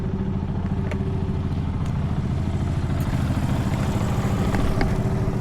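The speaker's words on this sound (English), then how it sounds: "Got the dirt bike going." A dirt bike engine running steadily at idle close by, a continuous buzzing rumble with light mechanical clatter and no talking.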